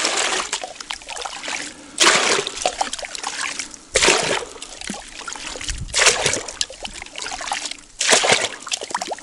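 Water sloshes and splashes in repeated scoops from a hole in thin ice about every two seconds, with trickling and dribbling between, close by and fairly loud.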